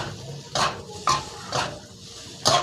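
Thai fried rice coated in egg with fermented pork (naem) tossed in a wok, giving four spaced metallic scrapes and clanks of a spatula against the pan, close and fairly loud, with no talking.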